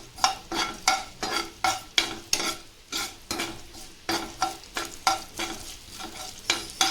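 Cumin, fenugreek and mustard seeds frying in a hot pan for a mixed vegetable pachadi give a steady sizzle, with a spoon stirring and scraping in quick repeated strokes close by and no voices.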